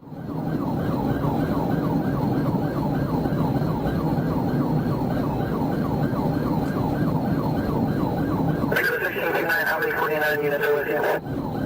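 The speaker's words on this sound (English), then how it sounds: "the trooper activated lights and sirens" A loud police siren wails continuously in a rapid rising-and-falling pattern, switching near the end to a harsher, higher yelp, with engine noise underneath.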